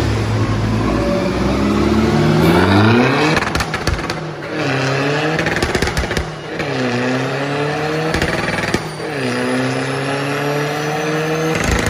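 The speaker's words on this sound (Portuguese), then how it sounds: "Como temos o banco de potência, estamos neste momento com um carro em cima dele." A stage 2 BMW 320d diesel with a full stainless exhaust revs hard on a dynamometer, loud and close, climbing through several rising pulls that hit the limiter and drop off between bursts, with no voices.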